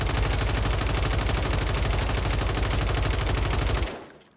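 Sustained automatic fire from a RAM 7 rifle with iron sights in a ranked Rebirth match, a steady rapid stream of close, loud shots lasting nearly four seconds before cutting off.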